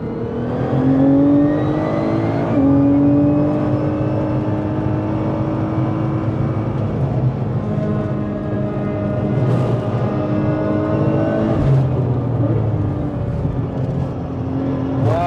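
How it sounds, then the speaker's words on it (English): A 1000hp Nissan GTR driven flat out on track, its engine roaring loud and near with rising and falling pitch sweeps as it shifts, and brief crackling pops from the exhaust, with no voices. "hear it flaming at the rear as well"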